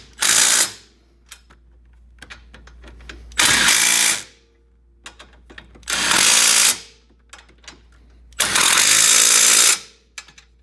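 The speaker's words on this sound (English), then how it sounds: "We just use a little impact driver with a 15mm." An impact driver with a 15mm socket tightens the bolts on a TMW Baja Turbo S bumper, hammering loud and close in four separate bursts. Short clicks and handling noises fill the gaps between them.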